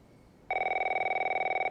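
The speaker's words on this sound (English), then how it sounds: "इतनी रात में कोई फोन कर रहा है, कुछ हुआ है।" A telephone rings at night in the video game The Last of Us, a steady electronic trill starting abruptly and continuing unbroken, loud and close with no voices over it.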